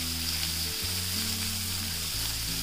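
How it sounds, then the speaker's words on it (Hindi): Vegetables stir-frying in a kadhai over a high flame for Hakka noodles, a steady loud hiss of oil over a constant low hum, with no distinct stirring strokes. "जल्दी जल्दी सब्जियां जो भी आप डालना चाहते हैं वो कढ़ाई में डाल के अच्छे से उसे मिक्स कर लेंगे।"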